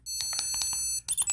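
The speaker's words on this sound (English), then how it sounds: "That beeping's the only thing that does sound good." A run of electronic beeps from the Atari game Missile Command plays on a plug-in micro arcade console, sharp repeated tones that are close and clear, with a short break and then a few more beeps at the end.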